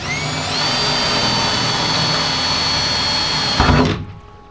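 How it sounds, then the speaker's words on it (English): A power drill bores a hole through a camper van wall, giving a loud steady whine for about three and a half seconds. It ends with a thunk as it breaks through, then stops. "So I'm just gonna drill a little hole here and use that as like my measurement for where I need things to be."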